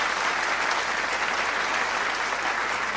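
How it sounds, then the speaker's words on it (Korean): An audience at a large peace rally applauds former Prime Minister Stephen Harper after his speech, a steady, even round of clapping heard at a moderate distance. "스티븐 하펀 전수석에 다시 한번 큰 감사의 박수를 보내주시면"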